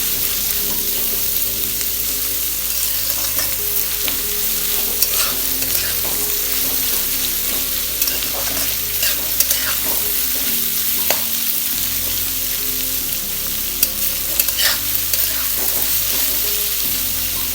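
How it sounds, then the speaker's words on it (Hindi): Onions fry hard on full gas, a steady loud sizzle broken by the scrape and clatter of stirring, with no voices over it. "अब ये हमारी प्याज भुन चुकी है"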